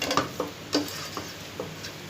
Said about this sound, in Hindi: मिक्स करें।